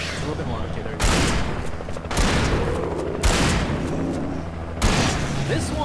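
Gunfire in the video game Alan Wake: loud shots and heavy blasts sound in repeated bursts roughly every second, each strike followed by a dense rumbling wash, with a voice between them.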